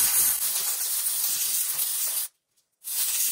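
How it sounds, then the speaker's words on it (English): Compressed air blasting through a cleaned sealed ball bearing, a loud close continuous hiss that cuts off for about half a second, then resumes. "just grab the compressed air and blow it out."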